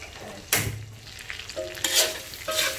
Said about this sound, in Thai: คนเลยค่ะ